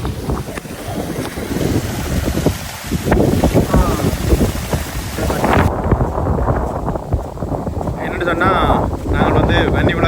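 Strong wind roars and buffets the microphone in a constant broadband rush, with water sounds and faint voices underneath.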